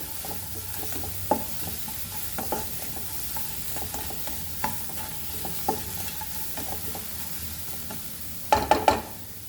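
Aloo matar, potatoes and peas cooked with no oil, stirred in a pan over a low flame: a soft constant sizzle with occasional scraping spoon strokes, then a quick cluster of clinks near the end, with no talking.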